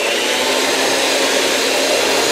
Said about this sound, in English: Oh, right to the egg whites before you whip them.